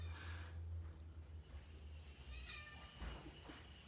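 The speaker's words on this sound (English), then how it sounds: "And there's the little kitty cat meowing." A cat meows faintly indoors, a couple of soft, brief calls heard over a low steady hum with no talking.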